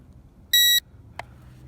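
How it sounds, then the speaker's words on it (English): Teegi Visuo XS818 GPS drone controller gives one loud, clear electronic beep lasting about a quarter second, followed by a faint click, in a quiet room. "the controller beeps, letting you know you just did a gyro calibration."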